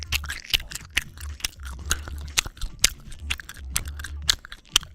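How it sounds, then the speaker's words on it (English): Gum chewed close to the microphone in an ASMR-style recording, with wet, sticky smacks and clicks in an uneven steady rhythm, loud and intimate with no talk. "When I chew my gum, do you get tingles?"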